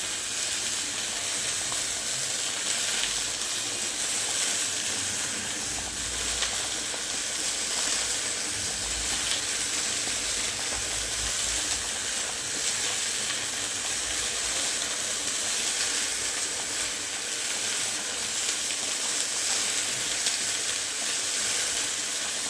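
Fish frying in hot oil in a pan, a steady bright sizzle and hiss that holds evenly throughout with no talking.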